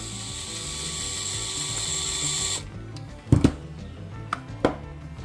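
Hand work on a MAXX Slash RC truck, backing screws out with a 5.5mm MIP wrench: a steady mechanical whir for a few seconds, then a handful of sharp, close ratchet-like clicks and knocks.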